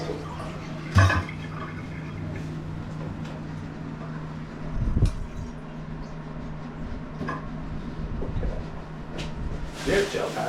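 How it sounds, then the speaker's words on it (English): A toilet with a bad wobble is flushed with the handle held down for a long flush, giving a continuous rushing, gurgling wash of water with a few louder surges throughout. "Now I'm gonna flush it to empty it. I'll hold it down for a nice long flush."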